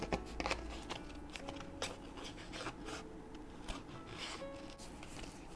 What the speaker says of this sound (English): So I'm just going to fussy cut around the mushroom.